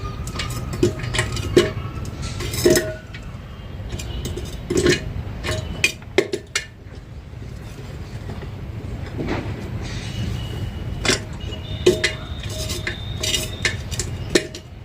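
Metal clanks and clatters as a pressure cooker is set down on a clay wood-fired stove, a cluster of sharp knocks and scrapes at intervals against a low background hum.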